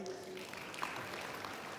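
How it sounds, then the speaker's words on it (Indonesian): A studio audience at an Indonesian motivational talk show gives a short, fairly faint round of applause. A voice briefly rises over the clapping. "Kita berikan tepuk tangan sekali lagi."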